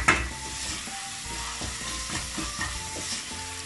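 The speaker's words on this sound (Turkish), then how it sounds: "bir taraftan da bamyamın kıymasını kavurmaya devam ediyorum." Minced meat for an okra dish frying in a pan while being stirred, with steady sizzling and repeated scraping strokes of the utensil, close and moderately loud, no talking.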